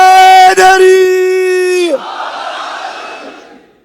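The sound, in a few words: crowd chanting a religious slogan (naara) at a majlis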